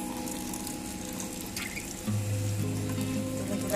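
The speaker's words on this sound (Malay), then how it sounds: "Kita guna air yang tadi untuk membilas" Running water from a tap rinses strained fish bones in a sink during laksa broth preparation, a steady moderate gush that grows slightly fuller partway through, with no talking.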